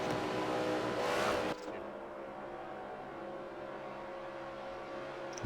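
Race car engines roar and rev in higher gears ahead of a restart at Le Mans in a racing video game, loud and steady, with a sharp drop in intensity partway through and commentators talking over it.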